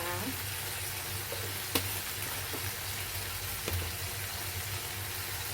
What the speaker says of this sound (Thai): แล้วก็คนให้เข้ากันค่ะ